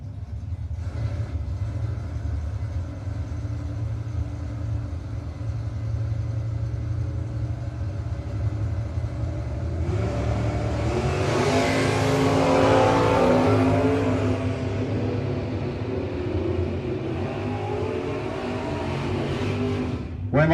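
Chevrolet Nova drag race cars at a No-Box 660 shootout rumble loudly at the line, then a surging roar builds around midway as they launch down the strip, staying loud to the end.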